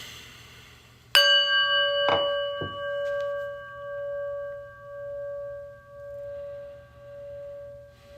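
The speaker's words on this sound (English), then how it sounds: "listening to the prayer bell." A prayer bell struck three times at the start of a meditation, the first strike loud and bright, then two softer ones, leaving a long pulsing ring that slowly fades over a quiet room.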